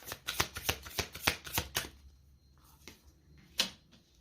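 Tarot cards are shuffled in quick, close riffling bursts, followed by a few softer single flicks as cards are drawn and laid down.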